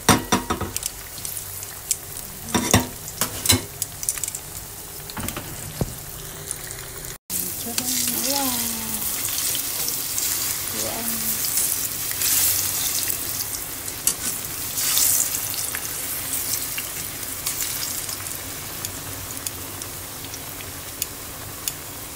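Banana cue pieces frying in hot oil, with a steady bright sizzle and crackle that starts abruptly as they go in and continues loudly, joined by occasional stirring clatter.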